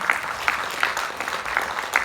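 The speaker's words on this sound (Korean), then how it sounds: "여러분들 큰 박수로 불러볼게요" Clapping fills a hall as the crowd at a humanities lecture-and-performance event at a Yeonggwang arts centre welcomes a speaker, a moderate, even round of applause with slightly louder bursts every half second or so.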